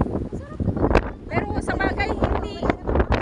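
Gusty wind blows across an outdoor microphone at a swimming spot, a rumbling, buffeting roar that keeps surging under steady conversation from several people throughout.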